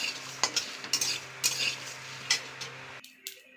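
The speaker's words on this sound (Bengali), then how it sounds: "এবার আমি এটা ভালো করে ভেজে নেব শুকনো কড়াইতে।" A dry spice mixture is toasted in a hot dry wok, with repeated scraping and stirring strokes in an uneven rhythm against a steady low hum, close and moderately loud, with no talking.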